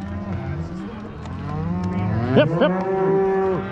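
Cattle being driven on a Montana ranch let out a couple of loud, drawn-out moos near the end, after a low murmur of herd noise, while a rider calls out to the herd.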